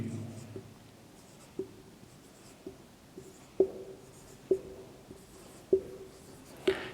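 Writing squares of numbers on a board during a maths lesson gives a series of sharp taps and short scratchy strokes at irregular intervals, fairly close against a quiet room.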